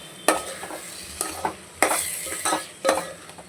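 A spoon stirs mint rice masala in a pan, giving about six close, rhythmic scraping strokes over a soft sizzle, with no talk.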